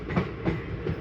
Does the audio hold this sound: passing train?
yes